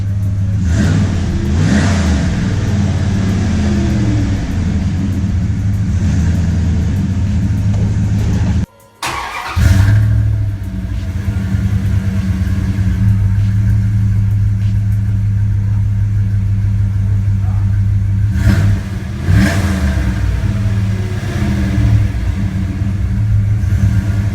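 A 1998 Dodge truck engine with a new Flowmaster exhaust starts and revs repeatedly, its deep throaty exhaust rumbling loud and close, with a brief cutout partway through before the idle resumes.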